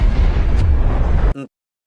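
An explosion in an animated film about a kraken: a loud, sustained roaring blast with deep rumble lasting over a second, then a brief ringing tail that cuts off abruptly into silence.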